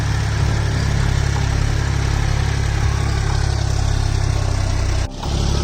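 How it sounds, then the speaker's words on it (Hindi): A tractor-driven rotavator churns soil in a field while raised beds are being formed, giving a loud, steady engine drone with continuous mechanical rumble and a brief dip near the end. "ये रोटावेटर चल रहा है।"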